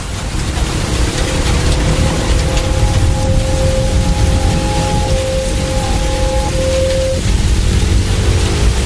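Steady, even hiss of light rain falling continuously, with a faint low hum underneath and no voices.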